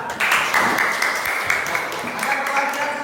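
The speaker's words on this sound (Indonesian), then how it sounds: "Tepuk tangan buat Fikar" A class applauding a student, a burst of many hands clapping together in a dense, steady patter for about three seconds in a classroom, with some voices mixed in.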